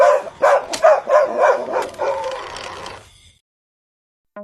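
A frightened dog, startled awake, lets out a rapid series of sharp, close barks and yelps that trail off into whimpering before falling silent.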